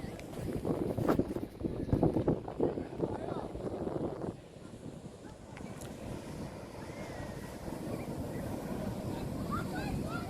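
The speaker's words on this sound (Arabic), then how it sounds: "صراحه غير هاد الصوت ديال الامواج البحر كفايه صراحه والله" Sea waves wash along a Moroccan shoreline with wind buffeting the microphone, a continuous rushing surge that swells louder early on, then settles into a steadier roar.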